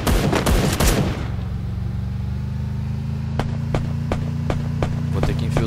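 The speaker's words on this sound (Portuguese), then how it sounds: "Dando muito tiro no cara dentro da casa ali." Gunfire from the Free Fire battle royale video game: a dense burst of rapid shots at the start gives way to a steady engine hum, punctuated by single spaced shots, loud and close, without talk.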